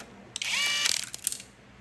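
A ratchet turns out an 8mm bolt from a bracket on a 4R100 transmission during a valve body build, giving a quick, close burst of clicking that lasts about a second and then fades.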